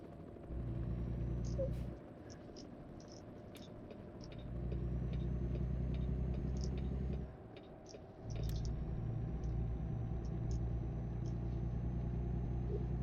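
Truck driven along a road by a quadriplegic driver, a steady low engine rumble and road noise that dips briefly twice, with faint higher clicks and tones over it.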